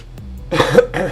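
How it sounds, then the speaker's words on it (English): A single close cough with a second smaller cough or throat-clear right after, sharp and loud. "Oh, coughing in guys' ear."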